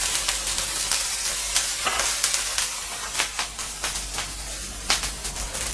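Water sprinkled onto a hot griddle while making soft, spongy home-style dosa hisses and crackles steadily, with sharper sizzling bursts flaring up through the clip, close and fairly loud with no talk.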